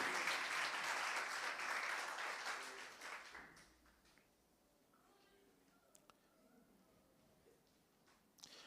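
A church congregation applauds loudly for about three seconds, then the clapping thins and fades away into quiet room tone with a few scattered taps.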